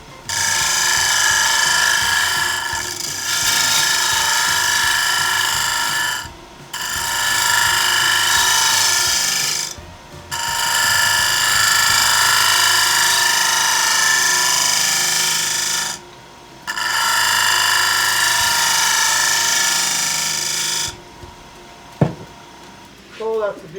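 A wood lathe spins at 1,750 RPM while a bowl is turned, giving a steady loud whine in long stretches broken by brief pauses, then it stops and a few faint knocks follow.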